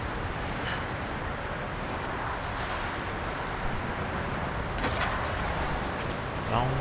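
Strong wind blowing in the Tomb Raider video game, a broad steady rushing roar like surf, continuous and fairly loud, with faint gusts rising near the end.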